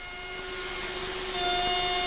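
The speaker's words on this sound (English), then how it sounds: "Straight mouldings can also be machined using the table-mounted router." A table-mounted router machines a straight wooden moulding, fed past the cutter under a hold-down spring with a push stick, giving a steady whine with tonal lines that lifts slightly in level partway through.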